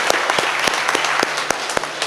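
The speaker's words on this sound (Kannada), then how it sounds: "ಅವರಿಗೆ ಒಂದು ಚಪ್ಪಾಳೆ ಹೊಡಿ ಎಲ್ಲರೂ." An audience at a Kannada eye-donation camp event claps loudly and continuously, a dense wash of hand claps with a few sharp individual slaps standing out.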